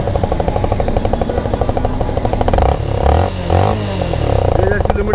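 A motorbike is wheeled out of a service shop with its engine running, giving a rhythmic putter and clatter with some revving and scraping, close by.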